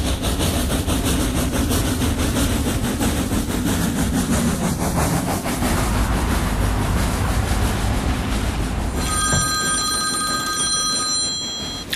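A train rumbles through Box Tunnel as a radio-story sound effect, a dense continuous roar with rhythmic clatter, followed near the end by a sudden telephone bell ringing loudly.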